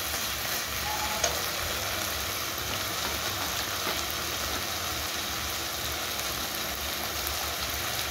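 Lote (Bombay duck) fish cooking dry in a pan, a steady close sizzle and frying hiss with faint stirring scrapes, continuous and moderately loud without speech.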